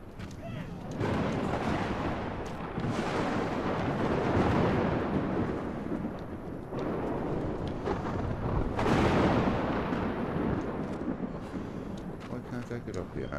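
Thunder from a lightning storm in the video game Ark Survival Ascended, Scorched Earth map: repeated heavy rumbling booms and cracks rolling through, loud and sustained, with people talking over it.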